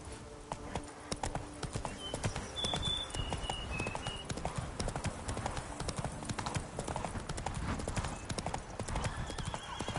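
Hooves of a horse in The Witcher 3: Wild Hunt, Blood and Wine, clip-clop steadily in a gallop under a dense in-game soundscape, with a brief whinny and a few tonal effects layered on top.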